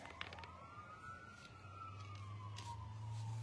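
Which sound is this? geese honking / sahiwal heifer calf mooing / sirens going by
sirens going by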